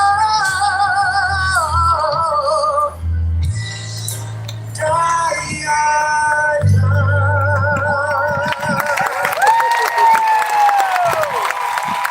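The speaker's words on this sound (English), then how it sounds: "thank you for that warm and wonderful round of applause" At an outdoor No Kings protest rally in Midland, Michigan, music plays and then gives way to a warm burst of clapping and cheering from the crowd, which swells over the last few seconds.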